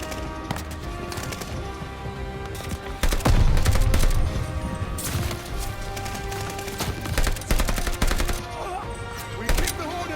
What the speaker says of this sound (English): See where the shots is coming from right now.